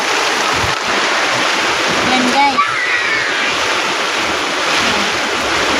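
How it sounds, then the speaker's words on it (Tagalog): Strong typhoon wind with heavy rain roars and buffets the microphone continuously, with a rushing, surf-like wash; a voice calls out briefly partway through. "Sobrang lakas ng hangin."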